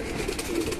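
Pigeons coo softly in a loft keeping Golden, Kamagar and Kasuri breeds, with a brief low murmuring call over quiet background noise.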